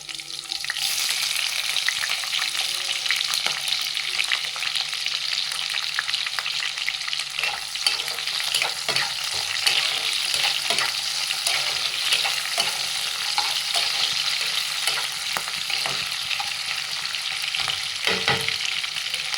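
Onions frying in a pan for Tamil tomato biryani make a loud, continuous sizzle up close, with scraping stirring strokes scattered throughout.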